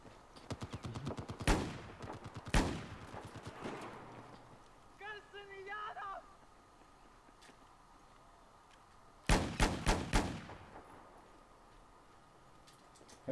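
Battlefield 1 gunfire plays out in fast automatic bursts, loud and close at the start and again near the end, with a quieter stretch of distant game sounds in between.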